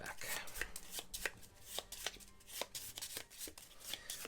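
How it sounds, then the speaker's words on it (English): Cards from an Arkham Horror third-edition board game are shuffled close up, a steady run of crisp riffling slaps and flicks repeating for several seconds without speech. "These all get shuffled up"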